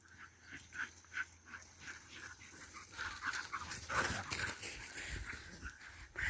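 Seven unleashed dogs pant rhythmically and rapidly nearby while playing, with scuffling movement and faint whimpers as the activity grows livelier; no one speaks.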